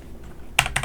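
A few quick, sharp key presses, Tab on a computer keyboard, close and crisp, a clustered double tap after a quiet moment, with no voices.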